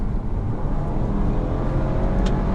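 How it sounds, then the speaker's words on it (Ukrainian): An Audi A4 B9 sedan with a 252-horsepower engine, heard from inside as the gas pedal is pressed: a loud, steady low engine drone with road rumble, continuous for the whole stretch. "От навіть як він реагує на те, як я нажимаю на педаль газу."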